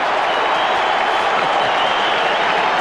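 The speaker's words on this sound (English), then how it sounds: "the Richmond crowd have come alive" An Australian football crowd at a 1991 Richmond versus North Melbourne match roars after a goal, a loud, unbroken wall of cheering and clapping from a large stadium crowd.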